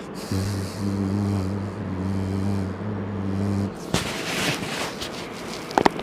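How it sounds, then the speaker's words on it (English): British Airways Boeing 787 with Rolls-Royce Trent engines at foggy Heathrow: a steady low droning hum for about three seconds, broken by two brief gaps, then a rougher rushing noise with a few sharp crackles and pops. "Sorry, Trent 8s. You can hear them humming away."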